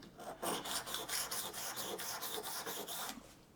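A steel scratch stock blade is rubbed back and forth against an abrasive to take the burr off its edge, giving a close, steady rasping in about a dozen quick, even strokes, with no talk.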